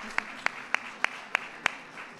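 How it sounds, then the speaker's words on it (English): Audience applause at a Black History Month event with President Obama: a soft, continuous crowd wash with a few louder claps standing out near the microphone at an even, regular pace. "Give them a big round of applause."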